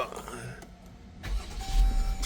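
Car bought at auction, engine cranking briefly and then catching, settling into a low, uneven rumble close by; a voice talks over the start.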